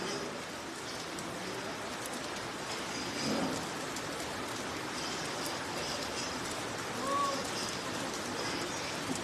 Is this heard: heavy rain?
yes